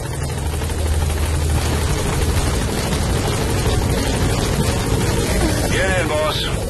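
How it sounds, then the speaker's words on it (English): A support helicopter arrives at a landing zone in the video game Metal Gear Solid V: The Phantom Pain, its steady rotor drone close and loud throughout, with a voice speaking over the helicopter noise. "Support helicopter has arrived."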